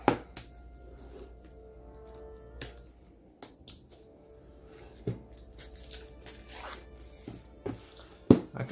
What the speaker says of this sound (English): So I'm gonna peel it open and see what we got.